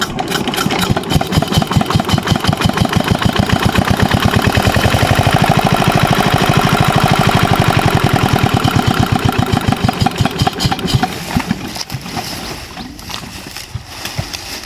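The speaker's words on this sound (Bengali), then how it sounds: "মেশিন অফ হয়ে যাকে স্টার্ট লইতেছে না" A machine engine sputters and chugs loudly in a rapid, uneven pulsing rhythm, then fades and falters near the end as it dies and fails to keep running.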